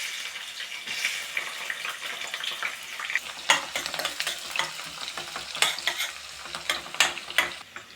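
Onions frying with cloves and cumin in a pan, a steady close sizzle with frequent scraping stirs that grow more pronounced toward the end.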